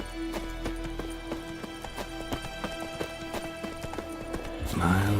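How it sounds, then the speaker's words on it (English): Horse galloping in a medieval fantasy RPG video game, rapid rhythmic hoofbeats at a steady pace with a sustained tone underneath, then a voice speaks briefly at the end. "Come on, Roach. Supposed to catch up to me, Roach."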